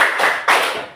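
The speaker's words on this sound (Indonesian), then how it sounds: "Tepuk klop." Two quick hand claps in a children's clapping game, close and crisp, spaced about half a second apart with no voices over them.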